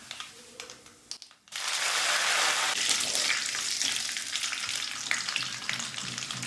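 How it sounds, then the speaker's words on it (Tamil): Dried red chillies and a sprig of curry leaves hit hot oil with a sudden loud burst of spluttering and crackling, which then settles into a steady, vigorous sizzle close by. A few quieter clinks come just before the burst. "கருவேப்பிலை பொரிஞ்சிடுச்சு."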